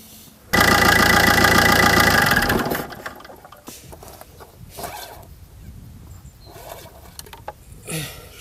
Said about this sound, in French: Et puis, je démarre le moteur 30 secondes.